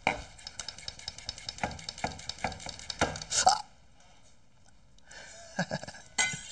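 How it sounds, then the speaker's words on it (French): A knife finely slicing ingredients on a cutting board, quick crisp taps in a steady run, a short pause, then a few more cuts, close and clear in a quiet kitchen. "j'émince ça très finement"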